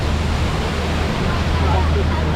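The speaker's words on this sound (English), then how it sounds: "We're going through this waterfall, making our way back home to Harambe." A waterfall pours beside an open safari ride vehicle at Disney's Animal Kingdom, making a loud, continuous rush of water with a low rumble underneath that holds steady for the whole stretch.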